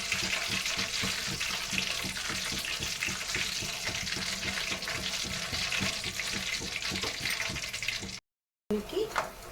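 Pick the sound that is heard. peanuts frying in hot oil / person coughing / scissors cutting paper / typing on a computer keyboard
peanuts frying in hot oil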